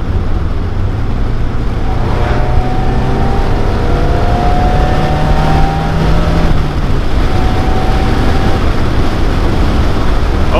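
Mazda Miata engine pulling hard on a test drive, a loud, steady drone rising in pitch as it revs through the gear, with road and wind noise underneath.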